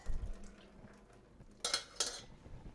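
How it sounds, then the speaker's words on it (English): A pot of cooked pasta being drained at the kitchen sink, with a couple of sharp metallic clanks and a quick rush of water over quiet background noise. "Take it over to the sink and drain it."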